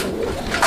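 A male Raj Golla pigeon gives a short, nearby coo, a brief throaty call that rises at the very end.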